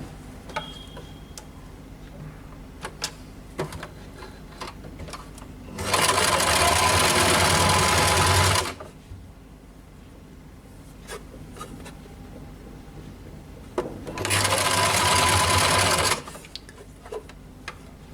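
Sewing machine stitching a single katori blouse, running in two loud bursts of roughly three and two seconds, separated by quiet handling with light ticks and rustles of fabric.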